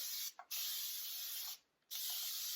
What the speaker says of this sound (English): I've already misted my plastic. I'm gonna spray that also.